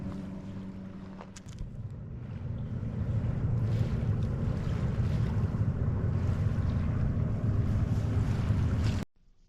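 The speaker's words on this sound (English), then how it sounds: "You hear the waves as you walk through the woods from one beach to the next." Lake waves wash steadily along the shore, heard from a woodland trail between beaches at a lakeside park. The low, continuous rush swells slightly and is joined by gusty wind noise, with no voices, before it cuts off abruptly near the end.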